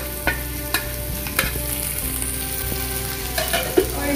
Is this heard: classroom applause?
no